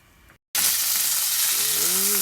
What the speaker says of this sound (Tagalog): Gisahin na natin ang pusit.